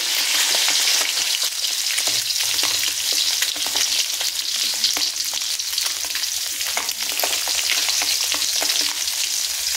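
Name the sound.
eggs with salt and turmeric frying in a pan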